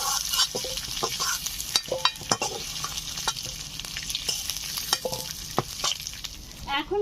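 Potato pieces fry until reddish in hot oil for a village-style ritha fish curry with whole garam masala, a steady sizzle under frequent scraping and clinking stirring strokes close by.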